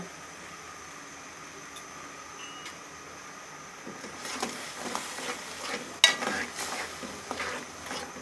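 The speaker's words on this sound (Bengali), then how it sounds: "গুড়টা গলানোর আগ পর্যন্ত এভাবে জাল দিতে থাকবো" Jaggery heated and stirred in a pan while making kadam flower pitha, a low background hiss with soft scraping stirs that grow busier and louder in the second half, including one sharper knock.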